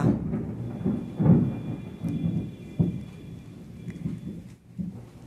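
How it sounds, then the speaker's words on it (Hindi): Low rumbles of thunder roll through the background with a soft, steady patter of rain, no voices, the booms swelling and fading irregularly. "बिजली कड़क रही है, बारिश हो रही है"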